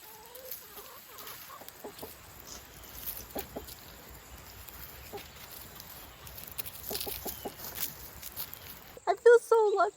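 Chickens cluck in short, scattered bursts at a moderate distance against quiet outdoor ambience near a cabin, with a brief louder spell of calls near the end.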